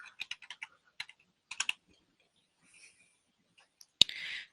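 Keys on a computer keyboard clack in quick short bursts, close and crisp against a quiet room, with a few isolated taps and a louder final strike.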